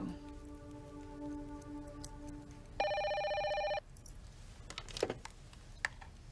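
A telephone bell rings in a soap opera scene: a steady electronic ring, then a brief louder burst in a higher tone, followed by quiet rustling, with no talk.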